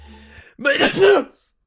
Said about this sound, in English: I'm so sorry, I didn't mean to sneeze